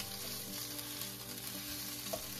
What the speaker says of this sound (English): After pan frying both sides, add the garlic and mix it with the beef.